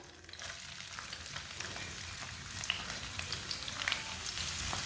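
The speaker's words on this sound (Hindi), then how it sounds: "प्याज को हल्का सा ब्राउन कर लेंगे।" Finely chopped onion and whole cumin seeds fry in oil or ghee, a soft steady crackling sizzle with faint popping and light stirring throughout.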